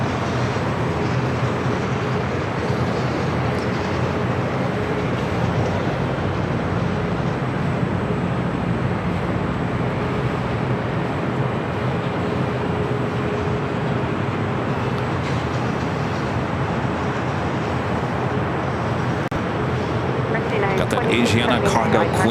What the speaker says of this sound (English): Next takeoff will be United Airlines flight 3868, heading to Newark in a